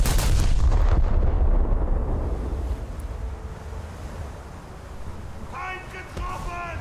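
Scharnhorst naval guns firing in World of Warships: a heavy booming salvo at the start rolls off into a long, fading rumble, and a brief voice comes in near the end.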